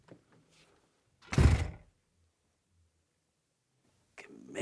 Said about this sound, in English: close the second door